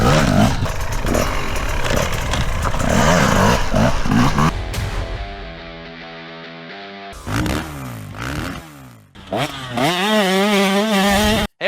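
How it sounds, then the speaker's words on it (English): A 2026 Rieju MR 300i Pro two-stroke fuel-injected motorcycle engine revs hard and crackles, with throttle blips rising and falling; the engine drops to a steady idle in the middle, then fires up again into loud revving, close by. "2026 Rieju MR 300i Pro. This is a two-stroke fuel-injected beauty from Spain."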